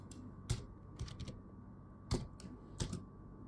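Keys clacking on a computer keyboard as a short script is typed into Notepad, a few spaced bursts of taps over a steady low hum, fairly close.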